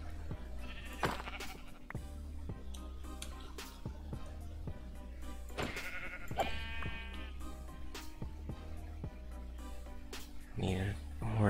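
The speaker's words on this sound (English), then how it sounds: "There's sheep." Sheep in the Minecraft video game bleat several times in short, wavering calls over a steady low hum of game ambience, with a louder cluster of bleats near the end.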